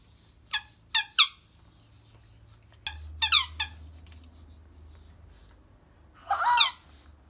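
A squeaky rubber toy frog is squeezed, giving sharp, high squeaks: a quick run of three, then a cluster of three, then a longer squeal. They are close and clear against a quiet background.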